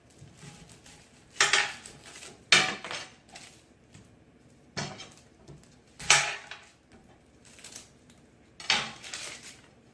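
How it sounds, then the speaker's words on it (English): A kitchen knife chops an onion on a cutting board, a handful of separate knocks and scraping cuts spaced a second or two apart, close and fairly quiet with near silence between. "I'm next going to chop my onion."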